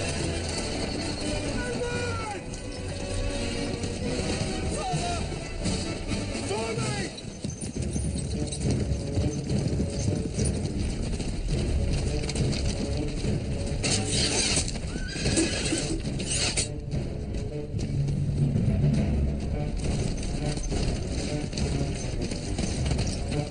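Horses in a medieval outdoor drama whinny loudly while hooves clip-clop over the ground. Shouting voices and general commotion run underneath, and the neighs come in a few bursts.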